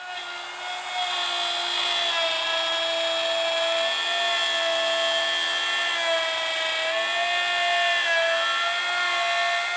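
A router spins steadily while cutting a dado in wood, a loud, sustained whine close by that holds a constant pitch for about ten seconds with a slight wavering.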